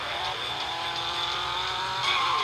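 Car drifting in the Extreme Car Driving video game, a steady loud engine roar with a sustained high tire squeal that swells near the end.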